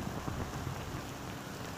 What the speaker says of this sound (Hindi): बारिश भी काफ़ी तेज़ हो रही है